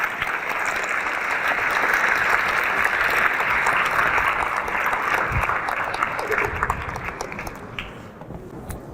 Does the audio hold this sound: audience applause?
yes